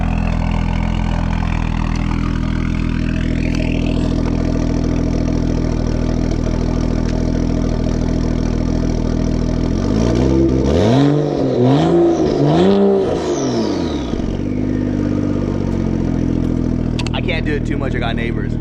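A turbocharged car engine idles with a steady low rumble, then revs up and down several times in quick succession, loud and close, with blow-off valve and intercooler sounds.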